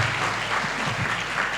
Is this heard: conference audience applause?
yes